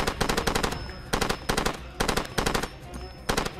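Submachine gun fire in Far Cry 2, delivered in several sharp rapid bursts with short pauses between them, loud and close, with no talking over it.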